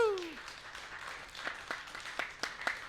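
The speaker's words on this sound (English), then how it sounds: "a warm virtual White Horse Live round of applause for the man of few words, Dr. Daniel Weiser." Sparse clapping from a small audience at a live-streamed cello concert, a few separate claps following a whooping voice, rather faint.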